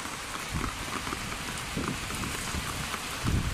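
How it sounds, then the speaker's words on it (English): Heavy rain falls steadily on surfaces outdoors, a dense close hiss with scattered heavier drops and patters throughout, no voices. "So, it has started raining again"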